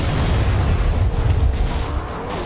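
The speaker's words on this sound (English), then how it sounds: "the rocket actually makes friggin' noises" A loud, sustained roaring rumble of a rocket in a video game, dense and booming, steady for a couple of seconds without voices.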